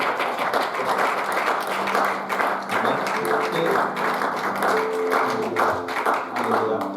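A church congregation at an evening service acclaims the Lord with sustained clapping and cheering that blends with overlapping voices, a lively continuous crowd sound.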